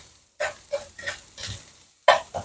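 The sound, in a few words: browning spinach with small fish in a pan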